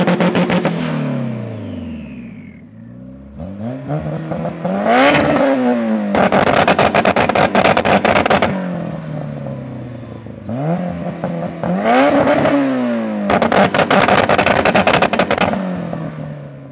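A 480 hp turbo VTEC-swapped Mini and a 520 hp boosted Honda Civic rev their engines in repeated sharp bursts, each climbing to a loud buzzing peak and dropping back to a lumpy idle.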